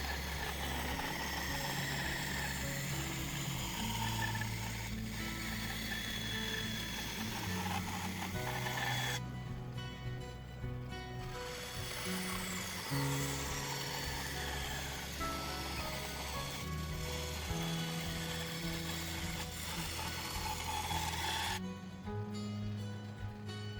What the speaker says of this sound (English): I cut out the sketch shape on the bandsaw.